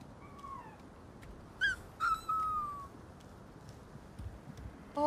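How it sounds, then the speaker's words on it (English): Dogs barking and whimpering in the background during a game stream, a few short high yelps and whines scattered over a steady low hum, moderately faint and with no talk. "And now my dogs are goddamn barking."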